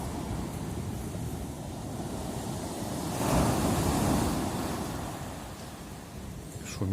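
Winter sea waves breaking on the shore at Erdemli, Turkey, make a steady surf roar with wind buffeting the microphone; one wave swells louder midway, then a rustle comes at the end.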